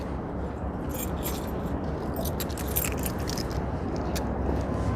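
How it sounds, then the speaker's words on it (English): Keys jingle in a pocket while walking outdoors in Midtown Manhattan, with irregular faint metallic clinks repeating over a constant loud street rumble. "My keys just keep jiggling in my pocket here."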